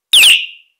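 A Hornit DB140 bicycle horn in its loud robin mode gives one short, piercing electronic birdlike chirp that sweeps and warbles, then fades quickly, heard alone and up close.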